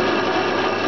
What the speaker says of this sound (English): You can see my poor old lathe doing its stuff.